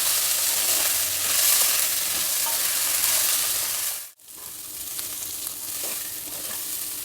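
Washed rice and moong dal fry in a spiced tempering for pongal, a loud steady hiss with stirring scrapes, briefly dropping out midway before resuming.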